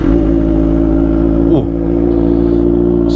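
A Kawasaki ZX25R fitted with an Arrow Pro Race exhaust and Radamel Racing header idles loud and close on a cold engine, a dense buzzing drone that blips briefly upward near the middle before settling back.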